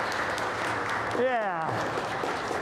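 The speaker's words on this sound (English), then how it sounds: "let's all give our welcome applause" Welcome applause from a congregation at a Sunday worship service, a steady wash of clapping under a brief spoken word and a short rising tonal sound.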